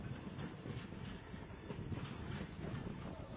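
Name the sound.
freight train running over burning tracks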